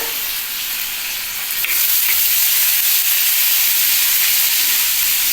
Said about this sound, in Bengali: এই কষাতে কষাতে দেখবে পেঁয়াজটা বেশ সুন্দর লাল হয়ে যাবে